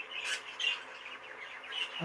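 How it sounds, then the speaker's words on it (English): A small cage bird gives a few short, high chirps, faint and close, with a brief pause between them in an otherwise quiet room. "You might have heard it give a little chirp there."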